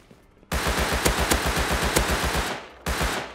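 Rapid automatic gunfire from a player's weapon in the survival game Rust, a sustained burst of about two seconds of evenly spaced loud shots, then a pause and a second short burst.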